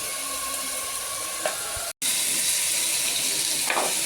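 Broad beans (avarakkai) sautéing in oil in a pan, a steady broad sizzle that runs throughout with a brief dropout midway and a couple of faint scraping stirs, no talk.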